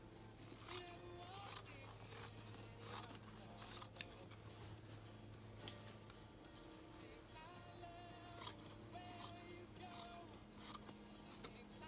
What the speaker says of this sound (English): I'm going to cut the fabric.